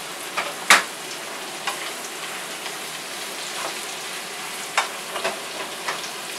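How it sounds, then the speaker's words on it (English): Mango stir-frying in a pan with garlic, onions and carrots, a steady crackling sizzle broken by occasional sharp taps and scrapes of stirring, no talk. "Stir it up with your garlic, onions, and carrots."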